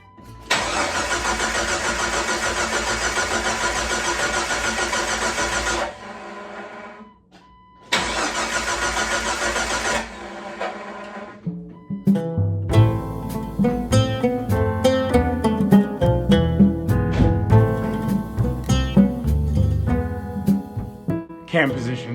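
Rebuilt Jeep 4.0 engine cranks after an overhaul, with two long starter cranking bursts that do not catch, then a third attempt that rumbles into a rough, uneven running idle, heard up close.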